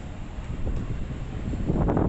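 Steady outdoor breeze under trees in San Francisco's Castro District rushing across the microphone as a low, continuous wind noise, swelling slightly toward the end, with no voices.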